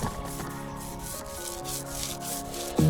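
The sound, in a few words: light sanding of wooden balustrade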